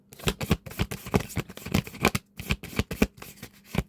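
Tarot cards shuffled by hand, a quick run of crisp riffling flutters and soft slaps, close and clear with brief pauses between bursts.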